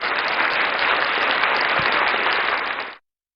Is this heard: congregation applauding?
yes